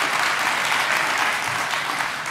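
A conference audience at a conservative political summit applauds with a dense, sustained wash of clapping that stays even and loud throughout.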